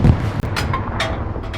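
Tank shell ricochets in a WWII-style tank video game against a Tiger, giving sharp metallic whooshing pings over a continuous rumbling engine and battle din, a few distinct hits in quick succession.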